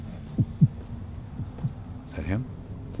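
Low heartbeat thumps sound in a horror video game, a paired beat followed by fainter pulses, heard quietly beneath a steady hum and a brief burst of other noise.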